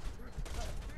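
Bursts of gunfire in the video game Borderlands 2 crackle in a dense, noisy second of combat, with a voice talking over the shots.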